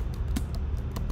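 A few quick clicks on a computer keyboard typing a search, light taps at an uneven pace over a steady low background hum, with no speech.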